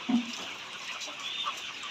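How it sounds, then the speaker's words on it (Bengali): Layer chickens on a poultry farm, a short cluck near the start followed by a dense, continuous murmur of many hens clucking and chattering, moderately quiet, with no talking. "ভিডিওর মধ্যে যে মুরগিটা দেখাচ্ছি"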